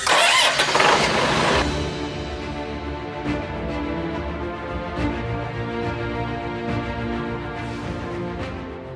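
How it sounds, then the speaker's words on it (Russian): A front loader's engine cranks and catches with a loud burst, then settles into a steady, rumbling idle as it warms up, close by and alone. "заводим погрузчик и даем ему нагреться до рабочей температуры"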